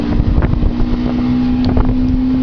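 A motorboat engine at half throttle drones steadily at a moderate pace, with a constant hum and wind buffeting the microphone throughout.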